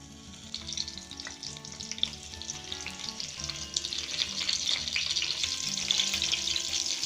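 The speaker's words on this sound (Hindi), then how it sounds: "कढ़ाई में मैंने ऑयल को गर्म कर लिया है। अब इसमें मसाला भरे हुए टिंडे रख देंगे।" Stuffed tinda, ridge gourd filled with masala, sizzles in hot oil in a kadai, a soft steady crackle and hiss that grows a little busier over time, close up with no voices.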